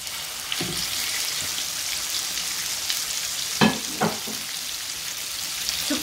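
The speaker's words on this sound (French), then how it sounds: "je vais faire colorer" A beef rib steak sears in a hot pan, giving a steady, close crackling sizzle throughout, with a few brief knocks as the meat or pan is moved. No one speaks.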